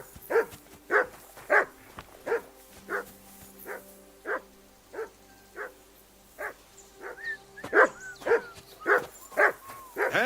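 A dog in Kingdom Come: Deliverance 2 barks repeatedly in steady, evenly spaced bursts, fairly close, with a few quicker yips toward the end and no talking.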